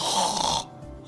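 A single loud, rasping snore fills the first half, then breaks off into quieter breathing, heard alone and close, as in obstructive sleep apnea.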